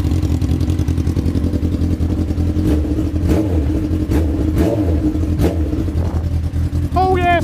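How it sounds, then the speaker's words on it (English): A Honda Fireblade sport motorcycle engine idles steadily with a smooth, even throb and a faint mechanical clatter, and a voice speaks over it near the end. "Engine sounds sweet. No rattles there at all."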